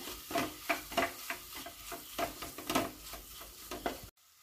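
A spoon stirs turmeric powder with macaroni in a hot pan, giving irregular scraping strokes over a soft continuous sizzle, close and fairly quiet, ending abruptly.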